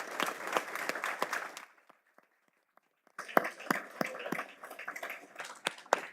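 Audience applause at a school board of education meeting welcoming a new elementary school principal: a burst of clapping, a near-silent pause, then a second round of clapping.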